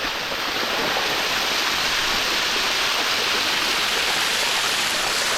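Waterfall at Vellarada roaring as a dense, steady wash of falling water, close and loud, with no talk over it.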